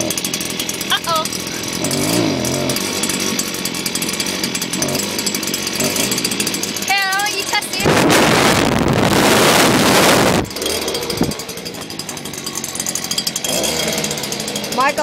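A Stihl leaf blower's engine runs loudly and close after a cold start, a harsh buzzing drone with a louder surge partway through, mixed with wind buffeting and bits of talk.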